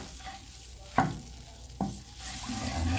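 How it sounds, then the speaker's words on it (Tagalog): Vinegar and brown sugar sauce stirred in a pan, with scraping strokes and soft sizzling; two sharp utensil knocks punctuate the steady cooking noise, and no one speaks. "Ayan, halu-haluin lang po natin."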